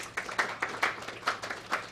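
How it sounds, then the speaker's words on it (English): Sparse, faint clapping from a small conference audience after a data talk, about seven separate claps spaced unevenly, with no one speaking over them. "Round of applause."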